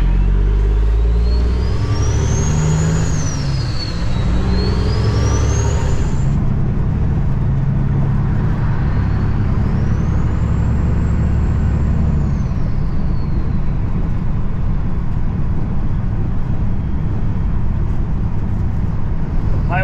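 A truck heading back onto a busy highway in Minneapolis, with a loud, steady engine and road rumble filling the whole stretch, plus tonal whines rising and falling over it.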